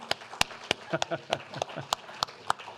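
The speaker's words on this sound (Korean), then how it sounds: "우리 같이 오신 분들 우리 박수로 환영하겠습니다" A congregation in a church claps to welcome visiting missionary guests: a sparse run of individual sharp claps, not a full ovation, heard alongside a voice speaking.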